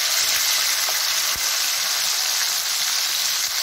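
Chillies and sambal ingredients frying in hot oil, a steady close sizzle and crackle that fills the whole stretch with no talking.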